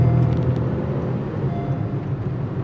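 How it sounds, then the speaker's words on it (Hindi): A 2021 Honda Amaze facelift's engine revs up toward about 7000 RPM, a steady, fairly loud low rumble with a high-pitched whine and no voices. "The engine revs close to 7000 RPM"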